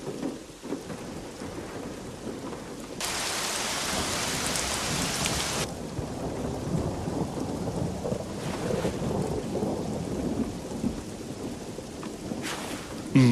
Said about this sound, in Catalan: Oh, sí que es posa a ploure.